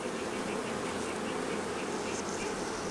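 Honey bees buzz continuously during a hive inspection, a dense, even drone of many insects close by, with no talking.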